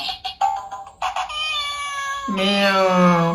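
A toy cat phone plays a cat-sound ringtone: short chirpy bleeps, then a loud, sustained tonal meow-like tune rising in the final second, close and clear with no voices.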